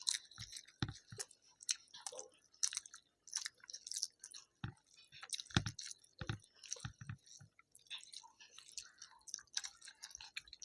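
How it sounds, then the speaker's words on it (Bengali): Someone chews pulao close up, giving soft, irregular wet chewing and munching sounds in short bursts separated by quiet gaps, with no talking. "একটু চিবিয়ে চিবিয়ে খা"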